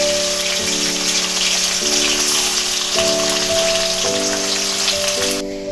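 Tilapia rubbed with salt and turmeric goes into hot oil in a wok, giving a loud, steady sizzle of frying that runs unbroken under a sustained background tone.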